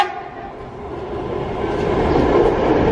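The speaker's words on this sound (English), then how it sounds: "This one looks to be broad gauge with third rail power." Broad-gauge, third-rail-powered subway train in Buenos Aires, a loud steady rumble and roar that swells gradually as it runs, with no voices.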